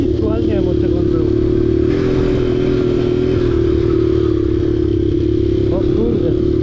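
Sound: Bombardier 125 quad ATV engine revving

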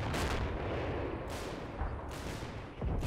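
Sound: artillery barrage in video game Combat Mission: Battle for Normandy

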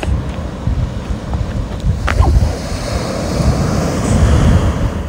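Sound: sea waves on a busy beach

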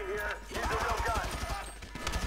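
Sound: gunfire from a video game weapon

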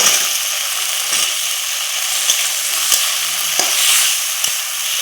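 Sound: boiled peeled potatoes added to fried spice masala and stirred

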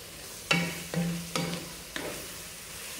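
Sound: stirring qurban meat frying in a pan

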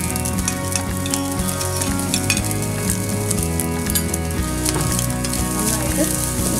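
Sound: ham frying and sizzling for Japanese fried rice

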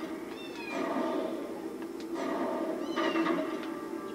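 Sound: kitten meowing in Harry Potter and the Philosopher's Stone PS1 video game

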